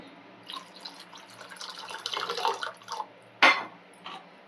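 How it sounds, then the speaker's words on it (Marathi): Water goes into a thick sabudana (sago) mixture in a kitchen vessel: soft intermittent splashes and stirring sounds, then one sharp clack of utensil against pot before it falls quiet. "इथे मी सर्व पाच वाट्या पाणी घालून घेतलं आहे"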